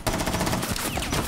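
Automatic gunfire rattles in fast, steady bursts in Rainbow Six Siege, loud and close with no pauses.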